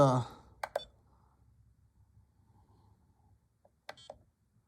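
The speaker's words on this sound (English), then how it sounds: "Two beeps. Beep, beep, and done." Two short electronic beeps from a MATE 2 200W LiPo battery charger sound near the start, followed by a quiet stretch and two more beeps near the end; a voice is briefly heard at the very beginning.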